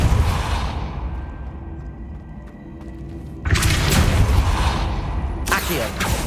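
The Depulso force spell being cast in Hogwarts Legacy, with a low rumbling whoosh that fades, then a sudden loud broadband burst of impact noise, followed near the end by a second sharp burst.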